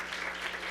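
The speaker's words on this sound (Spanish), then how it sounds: "Pues un aplauso para todas y todos." Applause from an audience at a Spanish-language public assembly, a brief, even wash of clapping from many people at moderate level.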